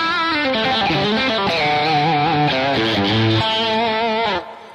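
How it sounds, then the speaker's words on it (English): An electric guitar with a moderate rock and roll distortion plays a sustained lead phrase of bending, gliding notes, loud and upfront, then cuts off abruptly near the end. "you can hear I've got a nominal amount of distortion on there"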